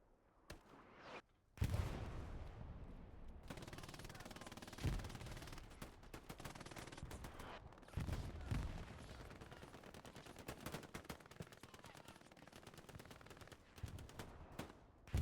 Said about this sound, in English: Enemy strafing behind there, missing.